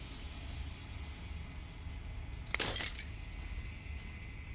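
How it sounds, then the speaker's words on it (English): Glass shatters once in Slay the Princess, a sharp bright crash with tinkling fragments breaking over a quiet low hum and fading within about half a second. "As the final fragment of glass shatters"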